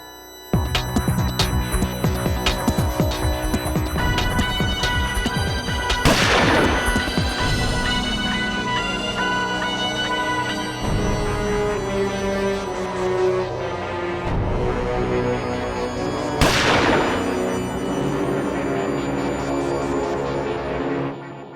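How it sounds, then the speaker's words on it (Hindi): Two loud sharp bangs ring out several seconds apart over a busy backdrop of music, each one flaring and then fading quickly. "मैंने गोली चलने की आवाज तो सुनी"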